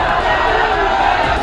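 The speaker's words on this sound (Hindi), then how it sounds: "जमा हुई भीड़ ने नारेबाजी की" A crowd gathered on a street in Saharanpur raises a loud, dense roar of chanted slogans, many voices blending into a continuous close-up clamour.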